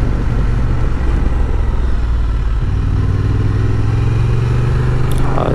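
A Honda Transalp 750 motorcycle's engine idles nearby, a loud, steady low rumble with a rhythmic throb and no talk.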